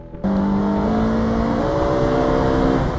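A BMW M3 E46 with its 333-horsepower S54 straight-six fires up and revs, the strong tonal engine note climbing and holding loud and close, alone without voices.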